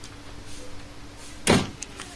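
Front door of a 2003 car with a broken outside handle opened from inside, a single sharp latch clunk near the microphone after quiet cabin ambience, followed by a faint click.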